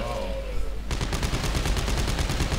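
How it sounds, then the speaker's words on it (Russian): Gunfire in Dead Space 3 comes as a rapid, continuous burst of automatic shots, loud and close, starting sharply after a brief quieter stretch and keeping an even, rattling rhythm. "Ну, потому что я в них стрелял."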